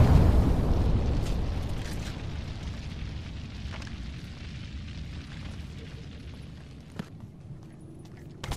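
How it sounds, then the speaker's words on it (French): A thermite grenade goes off in Apex Legends: a heavy, rumbling burst that fades into a long, roaring fiery hiss, with a few sharp pops near the end. "Grenade thermique lancée."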